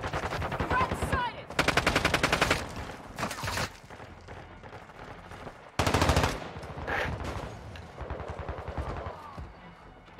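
Rapid automatic gunfire in the video game Call of Duty: Modern Warfare 2 during a team deathmatch on the Shoothouse map, several loud close bursts broken by short pauses, heard alone.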